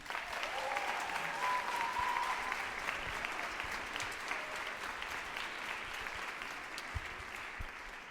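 Gala audience applauding warmly, a sustained crowd clap heard from the room at moderate level, with a brief voice early on and the clapping slowly tapering.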